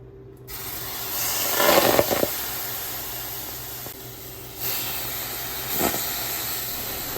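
Marinated chicken for fajitas sizzles in a pan on the stove, a steady soft hiss with louder crackling flares at the start and again near the end.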